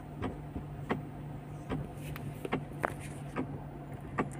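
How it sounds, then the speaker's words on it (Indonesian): Sharp mechanical clicks of an automatic transmission shift lock releasing as the brake is pressed repeat at irregular intervals inside a quiet car, with a faint steady hum underneath. "ketika rem ditekan itu seperti ada pengunci yang terbuka"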